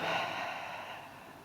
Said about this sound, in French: Inspire et expire. Une dernière fois.